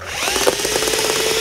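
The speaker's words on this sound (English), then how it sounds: "What if we just drill a hole through the keyboard?" A power drill bores through a laptop keyboard on a cheap Intel Celeron laptop, giving a steady close whine with grinding, rubbing texture that holds for over a second.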